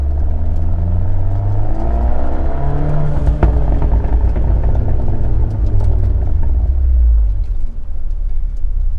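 A car with a Ragazzon valved exhaust, valves open, drives with a loud, continuous engine rumble that rises and falls as it accelerates through several revs, close and dominant throughout.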